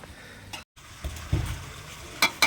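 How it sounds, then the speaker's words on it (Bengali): Meat kosha cooking at a family picnic, with a soft sizzle under a few scraping stirs and clanks of a utensil against the pot, one brief silent gap, no voices. "এখন আমাদের মাংস রান্না চলছে।"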